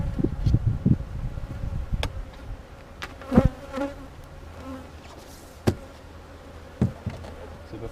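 Honeybees hum around an opened hive during a mid-March inspection, a soft continuous drone broken by individual bees zipping close past and a few sharp knocks and clicks of equipment.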